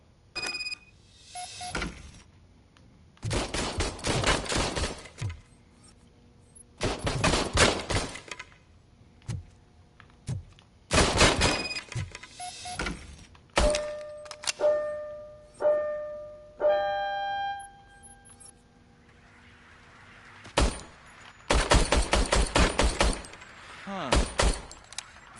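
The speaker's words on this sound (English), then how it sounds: "I was issued this old gun and serviced it according to the manual. I will try it out." Gunshots from a worn, hand-serviced old service pistol in the Robocop Rogue City game ring out in several sharp, loud bursts, some in quick rapid clusters, separated by quieter stretches with tonal game sounds and faint background noise.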